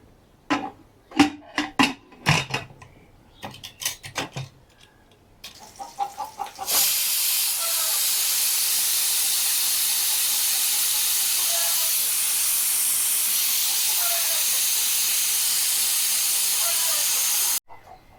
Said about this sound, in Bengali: আজকে লাউটা প্রেসার কুকারে রান্না করব